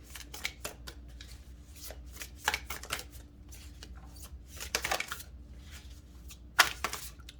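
Tarot cards shuffled by hand in a series of soft riffling bursts and card slaps, close and moderately loud, with a steady low hum underneath.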